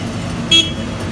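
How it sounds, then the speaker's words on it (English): Low, steady rumble of roadworks and traffic outside, with one short car horn toot cutting through midway. "Ripping up the road outside our studio here."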